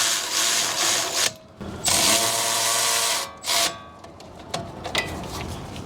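Brake caliper bolts being driven on a 2015 Lexus LX 570 with a power tool, loud close whirring bursts separated by brief pauses and ending in lighter clicks and handling sounds.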